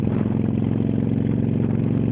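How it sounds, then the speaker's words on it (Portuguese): A Honda Shadow motorcycle engine runs steadily at close range. The low, even, throbbing idle holds a pulsing rhythm without any revving. "Hoje que o Patrício pegou a moto dele, a Shadow."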